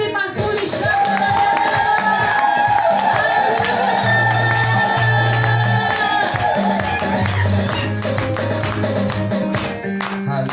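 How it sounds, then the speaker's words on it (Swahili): A church congregation cheers, claps and ululates at a worship service, a dense and loud crowd roar with high trilling voices over steady music throughout. "tupige makofi mazuri, shangwe na vigelegele"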